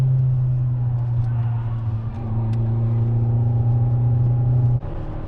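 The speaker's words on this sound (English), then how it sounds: "We've just got a normal Mark 7 Golf chasing the new GTI or whatever it is." A Volkswagen Golf Mark 7 follows a Golf GTI on the road, giving a loud, steady low engine drone with a constant hum that cuts off abruptly near the end.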